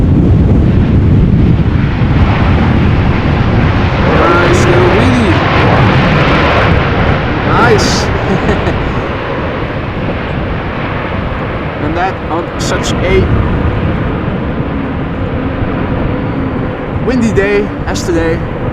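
TUI Boeing 787 Dreamliner, nine years old and Dutch registered, taking off at Amsterdam Schiphol during a storm: a loud, continuous broadband jet roar mixed with heavy wind noise, with a person talking over it throughout.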